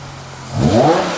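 A straight-piped BMW E60 M5 starts with a low idle, then its engine is revved sharply, rising to a loud, rasping climb before it eases slightly. The rev is short, close and has no talking over it.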